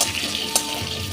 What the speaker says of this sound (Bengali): নুন ছিটিয়ে ভেজে নিচ্ছি